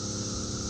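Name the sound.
cicadas humming constantly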